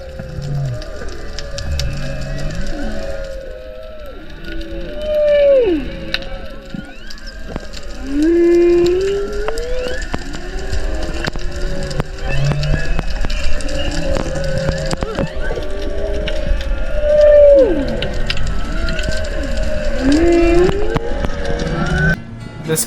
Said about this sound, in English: Listen to those whales singing.